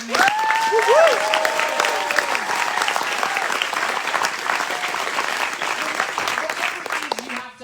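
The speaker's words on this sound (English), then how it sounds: "let's have one more round of applause" A large crowd applauds loudly and steadily, with a few whistles and cheers rising over the clapping near the start.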